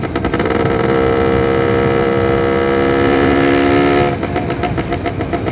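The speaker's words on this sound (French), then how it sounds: "Ouais, je roule sans échappement." A motorbike ridden with no exhaust silencer, climbing a hill, roars loud and close with a harsh, steady engine drone and rising pitch. The note drops and turns rougher near the end.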